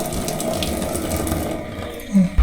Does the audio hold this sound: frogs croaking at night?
no